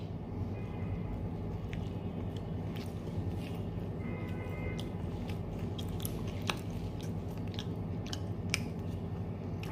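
Someone chews chicken coated in sauce close to the mic, making soft, wet, intermittent bites and small crunches over a steady low background hum, with no speech.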